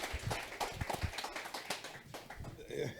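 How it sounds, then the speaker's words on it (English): An audience applauds for a guest at a talk event, with scattered hand claps forming a brief, moderate round of applause under some background voices. "a round of applause"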